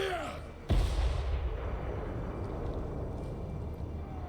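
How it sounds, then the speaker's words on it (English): In the video game Warhammer 3, cannons fire at plague bearers: one heavy, sudden boom lands near, followed by a long rumbling roar of battle that fades slowly, with a voice talking faintly underneath. "Cannons shoot at these plague bearers."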